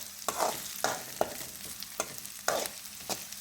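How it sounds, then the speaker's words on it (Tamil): Onion, curry leaves, green chili and cumin frying in hot oil, with soft sizzling broken by repeated scraping stirs of a spatula in the pan. "வெங்காயம், கருவேப்பிலை, பச்சை மிளகா, இந்த சீரகம் எல்லாம் இந்த எண்ணெயில் நல்லா பொரிஞ்சு வரணும்."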